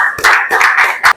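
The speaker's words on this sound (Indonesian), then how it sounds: "tepuk tangan dulu untuk temannya" Students in a classroom, during a lesson on micrometer screw gauges, clap for a classmate with a short, loud burst of three or four rhythmic group claps lasting about a second.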